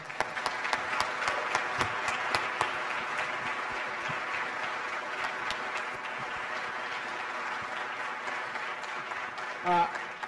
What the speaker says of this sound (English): Dr. Crawford, Tim Smith, round of applause, please.